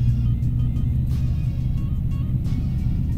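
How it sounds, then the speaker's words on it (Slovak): The engine of a flying car runs up with the brakes fully applied during an engine test, giving a steady, loud, close droning hum that holds constant throughout, with no voices. "Dáme plnú brzdu, vyskúšame otáčky motora."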